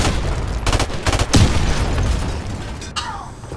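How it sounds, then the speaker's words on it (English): A nuke detonating in Call of Duty 4: Modern Warfare Remastered multiplayer: a deep booming blast rolls over dense crackling bursts and pops, loud and sustained, with a sharp secondary crack near the end. "He fucking nuked me."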